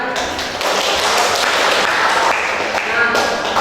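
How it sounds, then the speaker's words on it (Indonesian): Students in a high school group guidance session clapping their hands, a loud, steady burst of applause lasting a few seconds with some voices mixed in. "silakan tepuk tangan"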